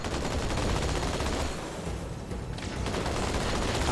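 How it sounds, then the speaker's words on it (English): A Covenant Phantom dropship in Halo pours down a dense, continuous barrage of fire, loud and unbroken, with the bursts blurring into a roaring wall of noise. "why is the phantom shooting at me?"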